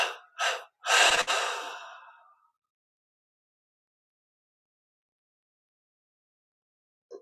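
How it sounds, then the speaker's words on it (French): Slow, deep breathing during a guided meditation: two short inhales, then a longer exhale that trails off, close and alone. Near-silence follows, with a faint breath at the very end. "Puis on inspire lentement, profondément. Et 3 expires."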